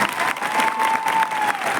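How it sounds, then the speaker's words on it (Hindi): An audience at a stage event applauds the gurus, with a steady, dense wash of clapping from many hands heard from a short distance. "तो सभी महागुरुजनों के एक बार तालियां हो जाए।"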